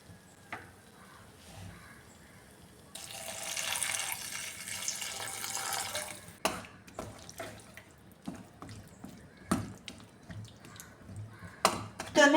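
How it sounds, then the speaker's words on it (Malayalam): Water poured from a vessel into a pan of sautéed tomato for a tomato curry, a steady splashing pour lasting a few seconds, followed by scattered clinks and light kitchen handling sounds. "ഇനി ഇതിലേക്ക് വേവാൻ ആവശ്യത്തിലുള്ള വെള്ളം ചേർത്ത് കൊടുക്കാമേ"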